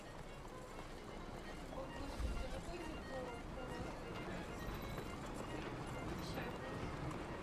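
Horse hooves clip-clop steadily in Red Dead Redemption 2, with an occasional neigh, heard faintly under someone talking.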